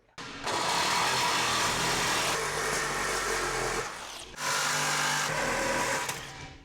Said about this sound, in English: there was a piece of conduit that I was cutting through